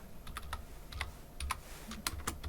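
Typing of a search term on a computer keyboard, a quick run of light, close key clicks in an uneven rhythm over a low steady room hum.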